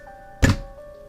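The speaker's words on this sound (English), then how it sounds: "there is the sound of a thud behind me" A single heavy thud of a person collapsing onto a floor: one short, deep, close impact that fades quickly against a quiet background.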